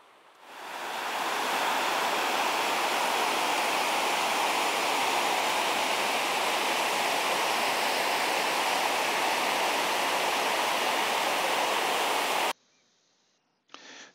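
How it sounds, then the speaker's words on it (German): Hammersbach, a mountain stream in the Wetterstein range flowing through mixed spruce and beech forest toward the Höllentalklamm gorge, rushes as a loud, steady broadband wash that swells in over the first second and then cuts off near the end. "Der Hammersbach fließt gemächlich neben uns."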